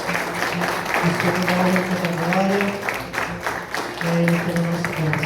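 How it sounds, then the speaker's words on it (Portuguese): Congregation clapping during a church service, a continuous bed of applause with voices calling out and talking over it, the clapping fairly close and steady throughout. "Vamos aplaudir ao Senhor."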